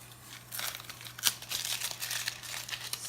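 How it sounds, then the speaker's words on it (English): Tape peeling off the painted edge of a wooden art cradle, a dry crinkling and tearing rasp with one sharper rip near the middle, close and continuous over a low steady hum. "we'll continue to pull this tape off"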